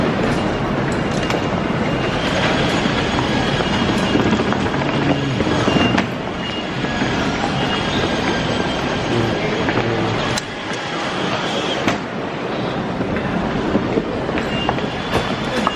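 JR train riding from Fukuoka to Kitakyushu in Japan, a loud steady interior rumble with rhythmic wheel clatter and faint squeals, heard from on board throughout.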